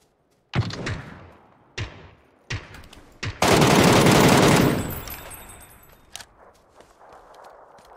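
Video game gunfire: a few sharp single shots spaced about a second apart, then a loud, dense burst of rapid automatic fire lasting over a second, fading into quieter game ambience with occasional thuds.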